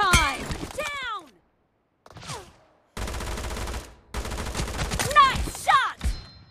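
Gunfire in a PUBG team deathmatch, with bursts of rapid automatic fire and shots broken by short silences, plus whooshing effects and game sounds, loud and close.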